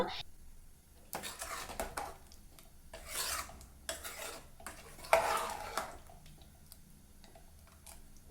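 A spoon stirs a pot of Mangalore cucumber sambar with dal and water in several close, rasping, scraping strokes separated by short pauses, with no clear talking.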